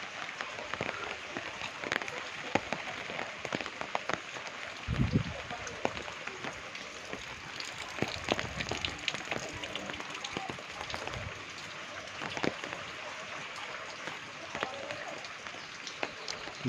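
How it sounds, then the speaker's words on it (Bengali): Heavy rain falls during Cyclone Remal, a steady, fairly faint wash of drops with scattered louder taps and thumps nearby. "খুব বৃষ্টি হচ্ছে, বাপরে বাপ।"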